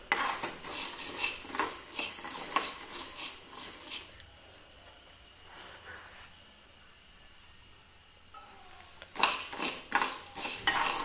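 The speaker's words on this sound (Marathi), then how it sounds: "त्याच्यामध्ये हे मूग आपल्याला हलकेसे भाजून घ्यायचे आहेत." Mung beans are dry-roasted in a pan and stirred, bursts of metallic scraping and rattling from the spoon against the pan coming in quick clusters, a quieter stretch of faint sizzle in the middle, then stirring resumes.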